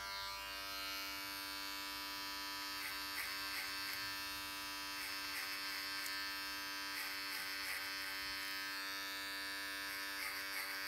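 Electric beard clippers with a wide clipper comb buzz steadily and continuously while trimming a full beard, a close, even drone with slight rhythmic changes as the blade passes through the hair.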